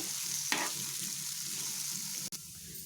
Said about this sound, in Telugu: పప్పుని యాడ్ చేసుకున్న తర్వాత కలుపుకొని ఒక టూ త్రీ మినిట్స్ దీన్ని ఫ్రై కానివ్వాలి